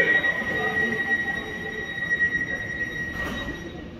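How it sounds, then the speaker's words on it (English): An Elizabeth line train pulls away from Bond Street station in London, with a sustained high wheel squeal over a low rumble and a brief swell near the end. "This train is now ready to depart."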